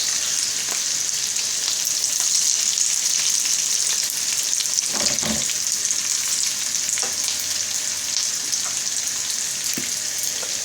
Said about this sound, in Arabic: البطاطا هي بدات كتحمر واحد شويه